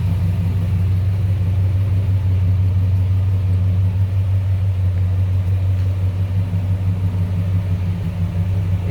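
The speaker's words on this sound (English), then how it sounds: "Nicely idling car." A 1971 Chevrolet Chevelle Malibu two-door hardtop muscle car idles steadily, heard from close behind, with a deep, even, throbbing rumble that stays constant throughout and no voices.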